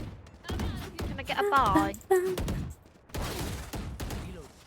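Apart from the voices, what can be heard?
gunfire from a gun in the Roblox Rivals video game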